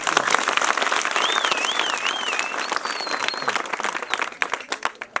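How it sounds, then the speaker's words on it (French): An audience applauds steadily at a gathering, a dense wash of many hands clapping with a whistle rising over it. It thins to scattered individual claps at the end. "Est-ce qu'on ne peut pas applaudir pour Guy Mouadjanvita?"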